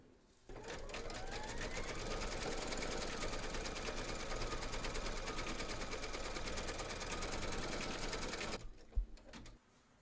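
An embroidery machine stitching the quilting on a teddy bag's face runs steadily with a fast, even mechanical rattle for most of the clip before stopping near the end.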